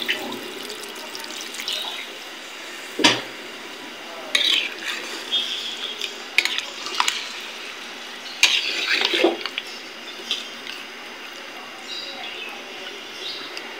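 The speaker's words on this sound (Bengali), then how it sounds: "ঝোলটা দিয়ে দিলাম।" Broth poured into a cooking pot of chicken curry in a home kitchen, a soft continuous liquid pour with splashy bursts, close and moderately loud, faint background sounds around it.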